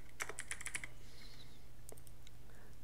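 Typing on a computer keyboard on a PC, a quick run of close, crisp key clicks in the first second followed by a few scattered taps against a faint background hum.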